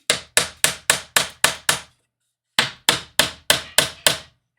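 Sharp hammer strikes ring out close by while fitting a Hachette Disney dollhouse piece, a run of seven steady blows, a short pause, then six more at the same even pace.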